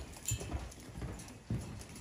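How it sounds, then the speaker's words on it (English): Hooves clopping on a hard surface, a few distinct hoof strikes spaced irregularly over a quiet outdoor background. "Hey, Bob, how do you like my red horse?"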